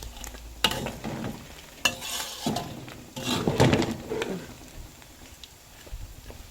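Climbing perch fry all at once in hot oil, a crackling sizzle broken by several sharp scraping stirs and clatters of the pan, moderately loud and close, with no talking.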